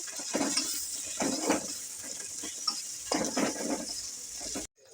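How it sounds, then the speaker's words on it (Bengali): Spices stirred together in a cooking pan, the spoon scraping and clinking against the metal in short bursts over a faint steady sizzle, close and fairly quiet, ending abruptly. "সব মশলাগুলো নাড়িয়ে মিশে নেব"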